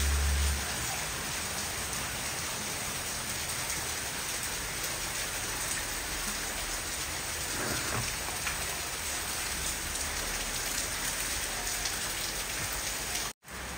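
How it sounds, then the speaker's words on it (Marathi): Heavy rain pours down steadily over a village, a dense, even wash of drops on surfaces that stays loud and unbroken, with no voices, until a brief cut at the very end. "गावाकडे भरपूर सारा पाऊस आहे."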